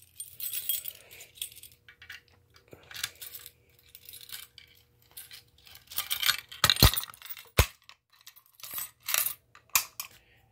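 Keys jangling while a fire alarm pull station is reset, with bursts of metallic clinks and rattles, near and fairly loud, separated by short quiet pauses.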